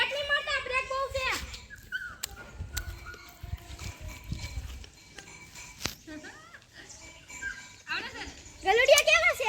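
Puppies at a farm yelp and whimper in short, high bursts near the start and end, with quieter gaps, footsteps and other small noises and voices nearby between them.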